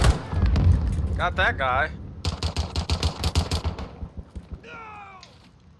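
Rapid automatic gunfire bursts in Call of Duty: Modern Warfare hardcore team deathmatch on the Crash map, loud and rhythmic, with someone speaking over the shooting.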